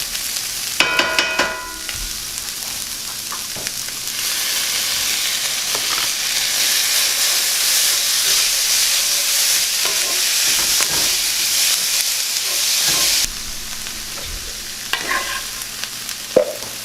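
Vegetables and minced garlic sizzling in a cast iron skillet and stirred: a loud, continuous hiss of frying with scraping clatter from a utensil at the start and near the end.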